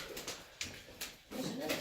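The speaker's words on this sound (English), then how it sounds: "That's a bird. Oh, yeah. Look at the pretty bird." A bird, likely a pigeon or dove, cooing inside an old abandoned building, with short soft coos and a few sharp bumps, faint and brief.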